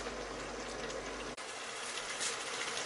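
Minced lamb and peas curry (keema matar) bubbling steadily in a pan, a dense continuous boiling hiss throughout with one brief dropout midway, no voices.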